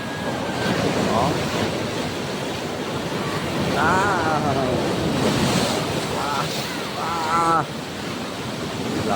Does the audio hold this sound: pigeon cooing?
no